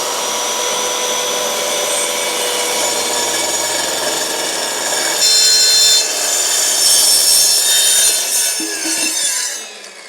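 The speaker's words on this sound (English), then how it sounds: "let's get this cut with the track saw" A track saw cuts through plywood while building a cupboard, a loud steady high whine with a harsh cutting roar that grows slightly midway, then winds down and stops near the end.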